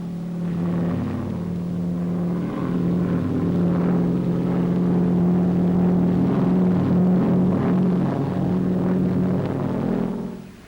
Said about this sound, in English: The Auster Eaglet, the light aircraft par excellence.